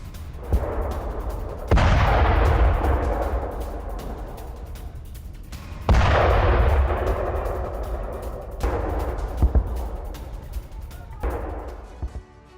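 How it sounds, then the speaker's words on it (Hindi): Cluster bomb strikes on Russian army positions in Bakhmut during the Russia-Ukraine war: four heavy, distant booms, each rolling off in a long decay, are mixed with scattered smaller cracks between them. "यूक्रेन ने एक बड़ा पलटवार किया, जिसमें क्लस्टर बम का इस्तेमाल करते हुए हमला किया गया।"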